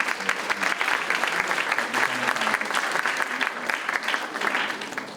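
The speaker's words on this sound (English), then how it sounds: "So please give a good round of applause." An audience at an Indian classical dance arangetram recital applauds steadily and fairly loudly for about five seconds, a dense wash of many hands clapping with no speech over it.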